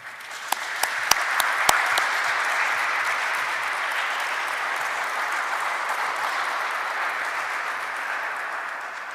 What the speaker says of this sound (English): I think the panelists deserve a round of applause.